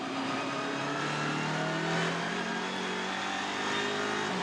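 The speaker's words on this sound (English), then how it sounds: "Pat Long coming down to complete another lap" Race car engine at the 2018 Bathurst 12 Hour, loud and sustained with steady harmonic drone and slight pitch shifts as the car comes down to complete a lap, no talk over it.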